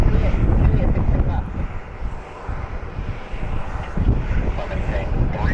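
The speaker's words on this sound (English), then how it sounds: "At the Republic Airways Heritage house livery, E175 pushing back here." A Republic Airways Embraer E175 jet in Heritage livery pushing back at Cleveland Hopkins airport, a steady low engine roar with wind buffeting the microphone and a voice talking over it.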